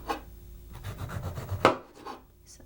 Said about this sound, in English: Now you just want to thinly slice, very, very thinly slice.